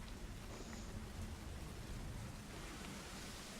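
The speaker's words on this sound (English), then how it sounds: "Heavy rain today. Wind and storm." Heavy rain in a windy storm, a steady broadband wash of falling water with low rumbling beneath, continuous and fairly faint throughout.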